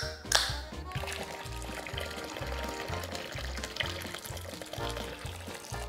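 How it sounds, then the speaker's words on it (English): Beer poured into an at-home foot soak basin, a continuous splashing, fizzing stream close by over a thumping rhythmic music bed. "Add beer to your at-home foot soak."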